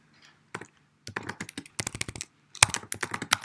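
Bursts of typing on a computer keyboard, a few isolated keystrokes and then quick clustered clicks in short runs, close and clear with no talk.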